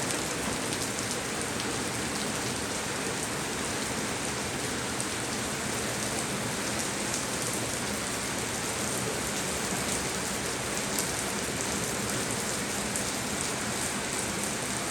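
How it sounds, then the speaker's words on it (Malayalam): Steady, heavy rain falls continuously in Thiruvalla, Kerala, a dense even hiss of drops hitting surfaces with no breaks and no voices. "തിരുവല്ലയിലാണ് ഈ ഒരു മഴ വന്നിരിക്കുന്നത്"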